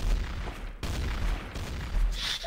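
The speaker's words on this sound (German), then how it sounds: "Ich höre überall nur Explosionen und Schüsse." Explosions and gunshots ring out in the video game Garry's Mod TTT, a dense, continuous barrage of booms and bursts of fire with a short break partway through.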